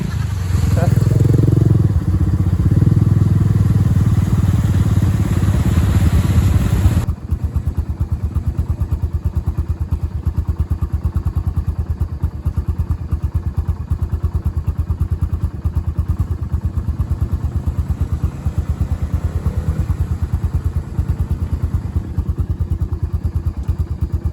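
A Murray riding lawn mower engine drones steadily, loud and close, while its wheels spin in mud, with a rougher surge early before settling into an even, buzzing idle-like run as people talk nearby.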